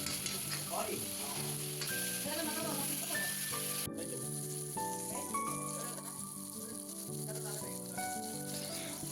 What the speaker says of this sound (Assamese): বিলাহীখিনি ভালদৰে ভাজি লওঁ সিজি যোৱালৈকে